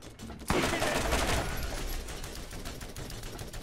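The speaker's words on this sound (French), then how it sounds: "Ok, peut-être fusil d'assaut." An assault rifle fires in Borderlands GOTY Enhanced: a sharp onset followed by a dense, rapid stream of shots, loud at first and then settling into a steady rattle, with faint voice beneath.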